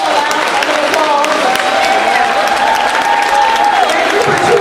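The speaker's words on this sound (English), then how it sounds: "Let's give them a round of applause." Applause from a school district convocation audience welcoming new teachers, a steady dense clatter of many hands sustained throughout, with crowd noise and a voice speaking over it.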